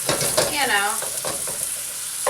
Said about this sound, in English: keeping things sizzling, but you don't want everything to splatter out at you either